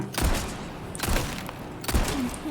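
Gunfire in the Resident Evil 4 remake, three sharp, loud shots spaced about a second apart, each with a booming low thump and a short decaying tail.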